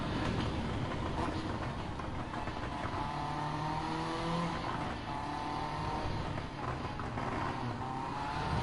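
Race car engine in a sim racing game, droning loud and steady with shifting revs throughout, rising and falling pitch bands audible as it accelerates and eases off, with no voices.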